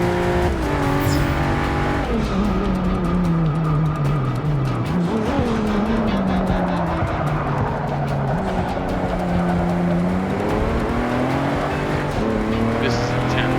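A race car in Forza Motorsport 6 Apex roars loudly at high speed, its engine note sweeping up and down through gear changes while tires squeal and skid for grip, with a voice talking over the constant racing noise.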